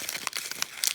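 Sheet of paper crumpled into a ball up close, a dense run of crisp crinkling crackles with several sharper snaps, no voice.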